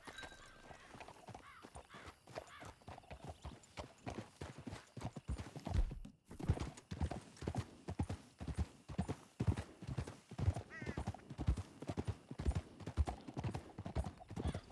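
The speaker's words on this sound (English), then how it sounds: "Back on your horse. Let's get after them." A horse gallops in the Red Dead Redemption 2 video game, its hoofbeats thudding in a fast, steady rhythm that grows louder partway through, with a brief neigh along the way.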